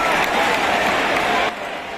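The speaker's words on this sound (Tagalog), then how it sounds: "Sigawan naman ng mga tao nang pinasok na si Papa Dwight" A basketball arena crowd at a Philippines versus Chinese Taipei game roars and applauds in a thick, continuous wash of noise that drops slightly after a second and a half.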